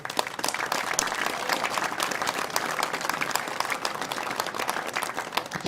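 Sustained applause from a crowd at a Bersaglieri flag-raising ceremony in Jesolo, dense continuous clapping that holds steady throughout.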